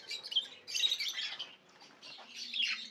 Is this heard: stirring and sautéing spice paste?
no